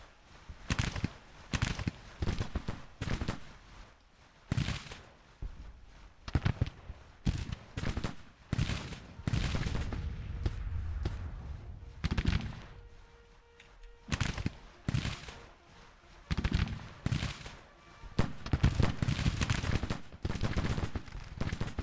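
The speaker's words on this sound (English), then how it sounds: "They unload a devastating volley" Infantry musket volleys crack out in the Grand Tactician video game, a Civil War battle with many rifles firing in ragged bursts and rolling clusters, some near and some distant, repeating irregularly across the whole stretch without speech.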